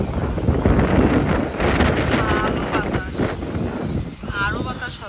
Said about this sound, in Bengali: আরো বাতাস হবে।